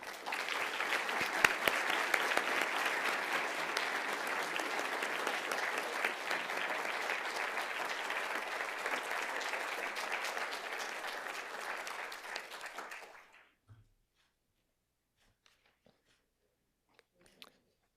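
Sustained applause with some cheering from an audience at an alumni award and portrait ceremony, steady and full for about thirteen seconds before cutting off into near silence.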